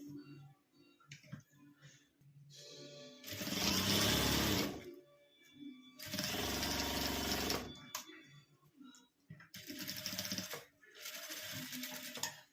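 A domestic sewing machine stitches fabric for a school pouch, running in three loud, rapid mechanical bursts separated by pauses with quiet handling and clicks.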